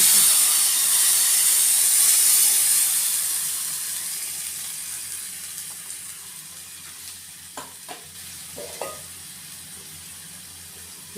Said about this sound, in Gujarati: અહીંયા બે ટમેટાની આપણે ગ્રેવી કરી છે તો તેને આપણે નાખીશું